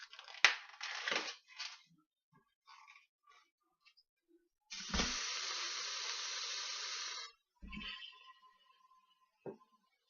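Ground beef browning in an Instant Pot, a steady broadband sizzle lasting a couple of seconds, with clattering utensil sounds and brief scraping bursts before and after.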